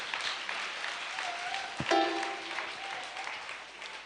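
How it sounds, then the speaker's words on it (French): Crowd of several thousand young people at a youth gathering applauding and cheering together, a dense burst of clapping with a brief whistle-like tone partway through. "Acclame très fort le Seigneur."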